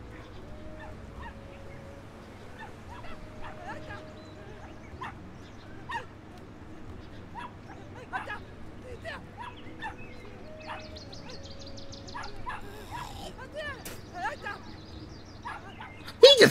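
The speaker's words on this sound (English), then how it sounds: "Why are the dogs all caged up?" Caged dogs in Brothers: A Tale of Two Sons, short barks and honking yelps repeating steadily at moderate distance under game music, with voices talking over them.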